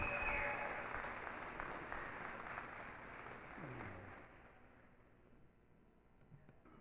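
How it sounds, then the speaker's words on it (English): Crowd applause for nursing graduates at a graduation ceremony, starting fairly strong and gradually thinning and fading away toward the end, somewhat distant. "they deserve a big round of applause for their studies"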